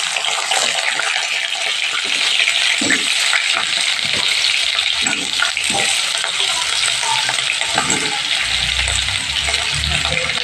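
Cut potatoes fry in oil with cumin seeds, a loud, steady hiss and crackle close by, with occasional stirring knocks and a low rumble near the end.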